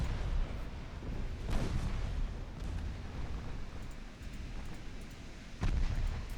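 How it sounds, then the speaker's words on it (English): A naval gunfire salvo in the Ultimate Admiral: Dreadnoughts warship game: a deep, rumbling roar of heavy guns with two stronger booming bursts rising out of a continuous low rumble, with no talking. "That is a good first salvo."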